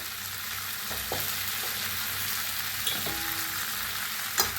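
Cluster beans being stirred with roasted peanut powder in a pan, a soft steady sizzle broken by a few light scrapes and taps of the spoon.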